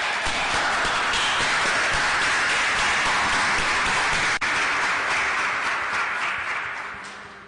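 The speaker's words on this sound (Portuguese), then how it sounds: "Uma salva de palmas para Jesus" Church congregation applauding for Jesus during a service, dense sustained clapping from many hands, loud and close, fading slightly at the end.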